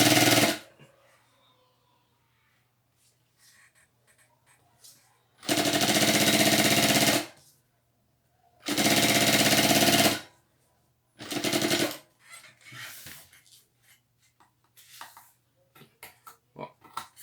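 A sewing machine stitches bias binding onto a backpack in two loud, sustained bursts of rapid mechanical whirring, each lasting about two seconds, with quieter handling noises and short stitching runs between them, close up, no talking.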